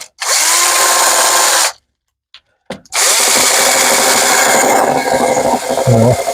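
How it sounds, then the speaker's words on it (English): A power drill whirs loudly in two long bursts separated by a short pause, close up and steady. "Put it in the drill, not on the table."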